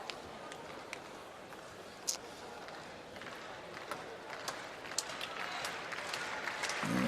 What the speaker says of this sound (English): the crowd doing their best to get encouragement for the underdog right here